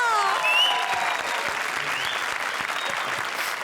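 A comedy show studio audience gives loud, sustained applause, with dense clapping throughout, a few whoops or cheers near the start, and faint voices mixed in.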